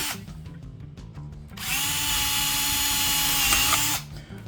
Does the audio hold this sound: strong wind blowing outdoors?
no